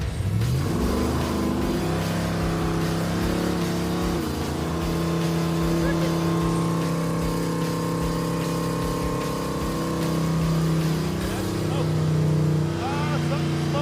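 A 1975 Ford Ranchero V8 runs rough off-road, loud and close, its engine droning and surging over about fourteen seconds while people talk over it.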